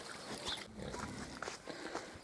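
Hungarian Mangalica pigs and piglets grunt softly in a barnyard pen, faint, low snorts and shuffling scattered through the scene with no talk.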